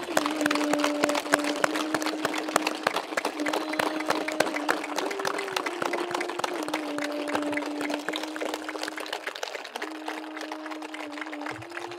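Audience at a guided meditation session at a Karnataka police training academy claps loudly and continuously, a dense patter of hand claps with a steady low tone underneath and no talk.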